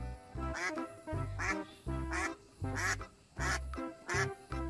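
A yellow duck quacks repeatedly in a steady rhythm, about eight loud, close nasal calls evenly spaced, with nothing else around them.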